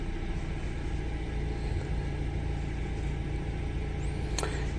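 Steady engine rumble from a 2023 Audi A6 running just after start, a constant low idle drone close by with no talk over it.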